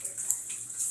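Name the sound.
pouring a cup of water into rice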